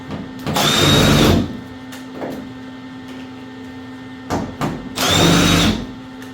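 A power drill backs screws out of a car body panel during rust repair, with two loud whirring bursts of about a second each, separated by a quieter stretch with light handling noise.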